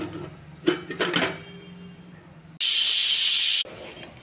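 Kitchen clatter gives way to a loud, one-second burst of steam hiss from a pressure cooker of peas, which cuts off abruptly before the quiet room returns.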